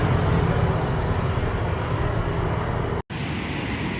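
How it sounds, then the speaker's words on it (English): Steady, loud roar of car traffic in Ho Chi Minh City, a dense continuous wash of engines and road noise with no breaks except a momentary dropout near the end. "Nothing better to wake you up in Ho Chi Minh City than the sound of cars."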